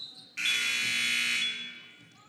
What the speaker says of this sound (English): We had an extra buzzer, but we can ignore that.